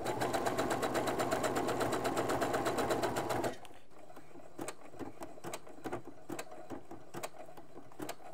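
Sewing machine running a zigzag stitch on stretchy lingerie fabric, a steady, fast mechanical chatter for a few seconds that then cuts off, leaving faint intermittent clicks and handling noises.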